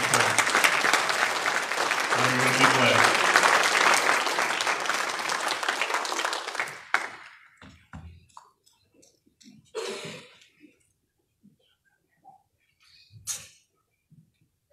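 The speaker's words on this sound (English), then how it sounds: "Give him a round of applause, Brother Bill." A revival church audience gives a round of applause for Brother Bill and his wife, a loud, dense crowd clapping that lasts about seven seconds, then stops abruptly, leaving scattered coughs, rustles and brief speech.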